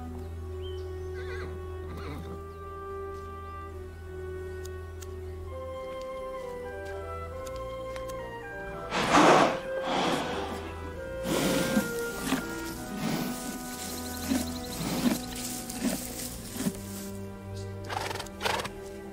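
A horse in the video game Vertigo gives a loud whinny, followed by clip-clopping hooves, rustling and snorting, with a steady tone behind it.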